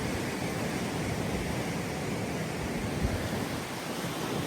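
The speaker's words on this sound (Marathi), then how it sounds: "समुद्राला भरती आहे" Surf at high tide on the Ratnagiri coast near Ambolgad fort rolls on as a steady, loud, broadband wash with no distinct breaks, heard alone without voices.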